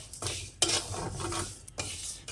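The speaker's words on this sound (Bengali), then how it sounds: "ডালটা ভাজতে দিয়ে দিলাম" Lentils dry-roasting in a pan with no oil, a spoon or spatula scraping and stirring in irregular strokes, with a few sharper clinks against the metal, close and fairly quiet.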